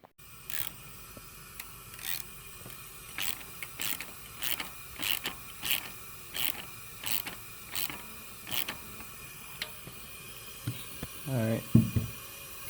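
A ratchet clicks in repeated short bursts, tightening bolts on an LS7 cylinder head tool in a workshop, with a steady rhythm of broadband ticks and a louder mechanical clunk near the end.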